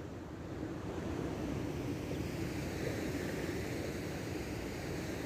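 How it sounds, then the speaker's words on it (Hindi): Loud, steady roar of rushing water in an outdoor garden setting, mixed with wind buffeting the microphone, continuous and unbroken throughout with no voices. "आपको शोर भी आ रहा होगा ना पानी का बहुत ज्यादा"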